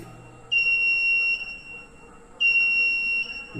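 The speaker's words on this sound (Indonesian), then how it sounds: "Maka buzzer untuk PLN akan" A generator changeover buzzer, signalling that grid (PLN) power has returned, sounds two long, steady electronic tones, each close to a second long with a pause between, loud and clear against a quiet room.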